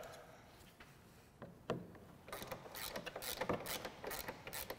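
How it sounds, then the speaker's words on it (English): A ratchet works T40 Torx fasteners loose from a Polaris snowmobile's upper plenum, faint scattered clicks that turn into a busier burst of close ratcheting and rattling in the second half. "you're going to take out the two T40 Torx fasteners, as well as the two plastic push darts."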